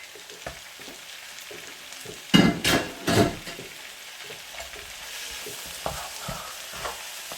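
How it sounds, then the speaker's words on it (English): Tomatoes and chilies sauté in a pan, giving a soft continuous sizzle broken by a few louder scraping stirs in the middle, then settling back to a gentle, close frying hiss with light clinks. "we'll add the tomatoes in to soften up, and the chilies too."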